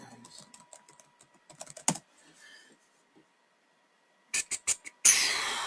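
Computer keyboard typing in short irregular bursts of clicks, close and fairly quiet, separated by pauses, with a sharper burst of noise at the very end.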